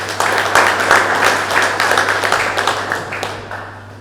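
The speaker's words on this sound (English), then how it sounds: "give them a round of applause" A crowd at the official launch and draw of a T10 cricket tournament applauds steadily for several seconds, a dense, loud wash of clapping that slowly fades.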